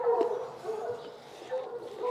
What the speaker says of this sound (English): That's a lot of barking, isn't it?